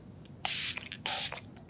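Two quick hissing bursts of setting spray mist onto a face at close range during makeup application, separated by a short pause, with faint breathy sounds between.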